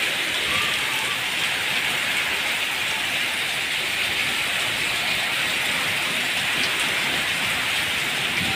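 Very heavy rain pours down in a constant, dense hiss, steady and close throughout, with no voices or other sounds standing out.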